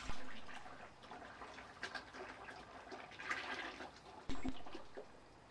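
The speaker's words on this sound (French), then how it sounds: "Qu'il ne reste plus qu'à verser dans le seau troué." A fluid, well-stirred wood-ash lye mixture is poured into a perforated bucket, giving a faint, continuous trickling and splashing with a brief louder gush near the end.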